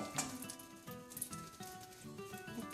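Pancake batter sizzles and spatters in a buttered frying pan, a steady close crackle with scattered sharp pops and light taps.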